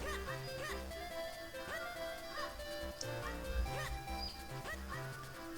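A dog in The Legend of Zelda: The Minish Cap barks in a series of short, chirpy yips at a regular pace over quiet, looping game music.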